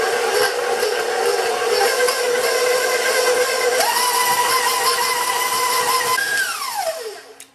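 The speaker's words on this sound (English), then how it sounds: "I have a pound of room temperature butter in our mixer, and I'm just going to turn it on and let it work for a few minutes" A stand mixer beats a pound of room-temperature butter, running as a loud, steady motor whine that steps up in pitch partway through, then winds down and stops at the end. No one speaks.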